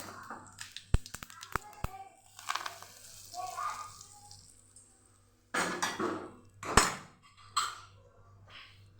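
Curd being beaten in a bowl with a spoon, a tempering of mustard seeds and cumin poured over it, gives sharp utensil clicks and taps, then louder bursts of scraping and stirring close by.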